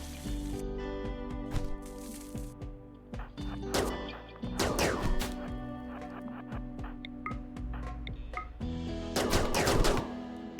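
Gunfire and melee combat in the colony game RimWorld: repeated gunshot bursts and thudding hits, loud and close, in several clusters over steady low game ambience.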